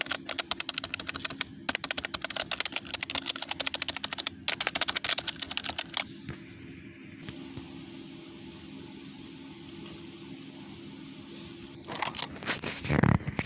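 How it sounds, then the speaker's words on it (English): Typing on a membrane computer keyboard: dense bursts of soft key clicks in stretches, a quieter pause, then a louder burst of rattling keys near the end. "This is a membrane keyboard. Sounds pretty good for being a membrane keyboard."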